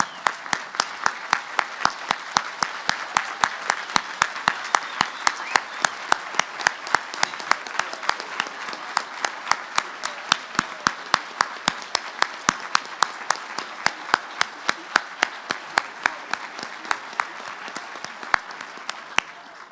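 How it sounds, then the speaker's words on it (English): A standing audience at a Martin Luther King Jr. prayer breakfast applauds steadily for about twenty seconds, a dense, even wash of many hands with sharp individual claps standing out, no talking over it. "let's stand and give them an applause"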